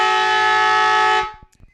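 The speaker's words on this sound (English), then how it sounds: "Siren's gone." A loud, sustained siren sounds the three-quarter time break at an amateur Australian rules football match, holding steady for over a second before cutting off, followed by a few faint knocks.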